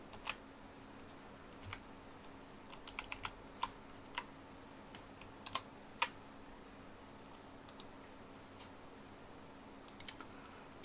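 Sparse keystrokes on a computer keyboard the user finds poor, tapped in short irregular bursts and single clicks over a steady low hum, quiet and close, with no talking.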